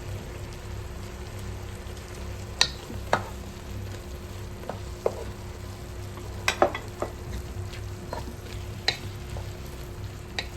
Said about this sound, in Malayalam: ക്യാരറ്റ് ഇതൊന്ന് വെന്ത് അതിലേക്ക് നമ്മൾ മഷ്റൂം ഇട്ട് കൊടുക്കുകയാണേ